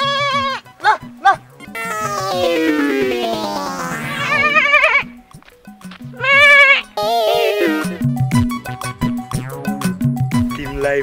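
Goats bleat repeatedly and close by, several loud wavering calls overlapping in bursts, with a short quieter gap in between.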